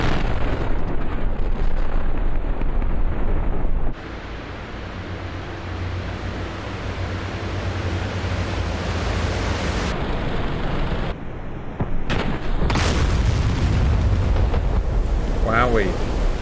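A QUICKSINK bomb from an F-15E bursts in the water beside a ship in a game, a loud broadband blast with water churn and rushing wind-like roar, ending in a second surge of spray-like noise.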